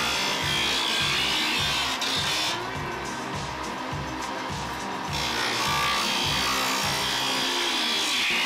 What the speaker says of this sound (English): take a piece of sandpaper and a board, just kind of rub it across there